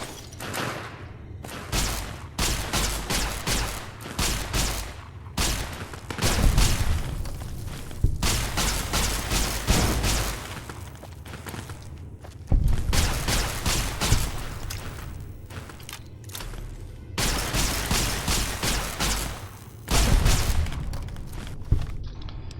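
Gunfire rips through turrets in Fallout New Vegas, coming in loud, rapid bursts of shots and booming impacts separated by brief pauses, with faint footsteps between volleys.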